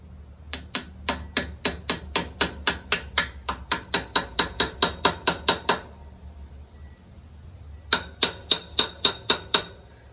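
An old Walmart Stanley hammer taps a lawn mower caster back onto its mount in a quick, even run of about twenty sharp metallic knocks, then a short pause and a second burst of about eight taps, with no talking.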